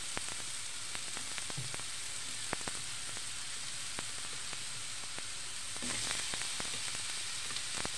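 Red onion sizzles and fries in a hot pan, giving a steady crackling hiss broken by sharp pops and spatters, close and fairly quiet, with no voices.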